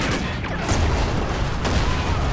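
Rapid machine gun fire in the shooter game Call of Duty Ghosts, a loud, dense burst of shots with booming impacts running through the whole stretch, no voices over it.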